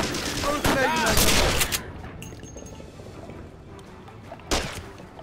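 Gunfire from a video game shootout in a Royal Marines commando mission, with rapid bursts of overlapping shots for the first couple of seconds, a quieter stretch, then another sharp burst near the end.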